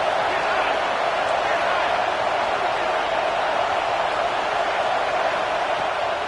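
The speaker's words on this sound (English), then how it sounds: "This crowd bringing the energy and noise early." A big stadium crowd at a Florida vs Miami college football game roars in a dense, steady wash of noise, loud and unbroken throughout.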